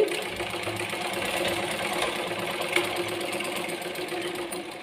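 A sewing machine stitches continuously with a steady mechanical whir and an added abnormal knocking rattle, close and constant throughout with no talking.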